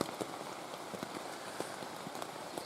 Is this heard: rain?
yes